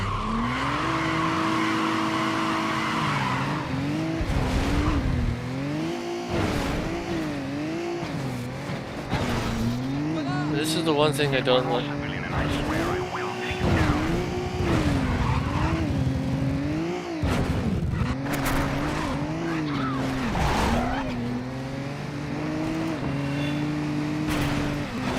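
Cars race through city streets in the video game Midnight Club 2, engines revving and rising through gears with repeated tire squeals and skids, a police chase under sparse in-game dialogue.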